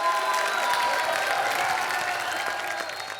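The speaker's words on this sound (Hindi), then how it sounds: "जोरदार ताली हो जाए" Studio audience applause on a television comedy show, a dense, loud burst of clapping from a large crowd with light cheering, slowly easing off toward the end.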